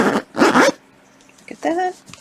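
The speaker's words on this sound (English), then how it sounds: "See how this zips." A recessed zipper on a garment is zipped in two quick, fairly loud rasping pulls, followed by a pause and a shorter zip with a higher squeak, close up.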